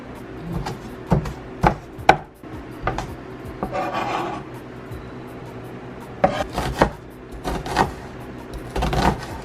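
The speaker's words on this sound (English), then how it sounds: "You just chop up your onions into small pieces." Onions chopped into small pieces with a knife on a board, a scattered series of sharp, fairly close knocks, some in quick pairs and bursts, separated by quieter pauses.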